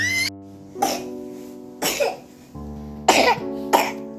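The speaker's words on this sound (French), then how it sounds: "le petit tousse encore beaucoup" A sick baby coughs in a series of short, harsh bursts, four or five irregularly spaced coughs heard close up over a steady background hum.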